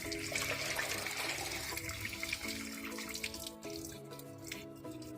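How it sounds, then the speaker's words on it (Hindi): Water pours steadily from a household water tank, a continuous rushing and trickling flow with dripping that carries on throughout, fairly close and without talk. "देख पानी बोल रहा है।"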